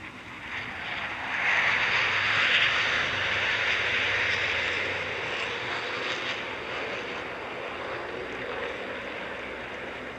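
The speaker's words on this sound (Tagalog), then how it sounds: "Inyo pong nasaksihan ang high-speed opener pass o ang mabilisang paglipad ng FA-50PH o ang tinaguriang Fighting Eagle" An FA-50PH Fighting Eagle jet makes a high-speed opening flyover pass at a presidential inauguration ceremony, a broad roaring rush that swells loudly around the second mark and then fades into a lingering distant hum.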